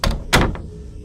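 A door is shut and locked in the Indian horror game Kamla, with a quick rattle, a heavy thunk and a softer click close by, then quiet.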